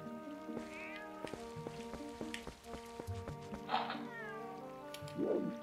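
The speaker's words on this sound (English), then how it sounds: "How the fuck do you get the cat inside?" A cat meows repeatedly in The Legend of Zelda: Twilight Princess, several short mewing calls over game music, with a louder yowl near the end.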